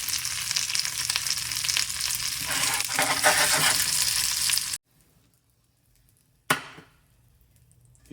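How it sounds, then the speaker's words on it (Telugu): Spices for a tempering crackle and sizzle in hot oil for a rohu fish curry with dhappalam, loud and dense for several seconds, then cut to near silence before a brief sharp sizzle burst. "సో తాలింపుకి రెడీ చేస్తున్నాను"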